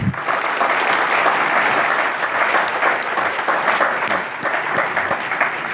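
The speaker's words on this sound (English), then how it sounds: "So I would appreciate it if you could all offer a round of applause for Marion." Audience applause at a NetHope conference session fills the space with steady, dense clapping that holds at a constant level throughout, with no speech over it.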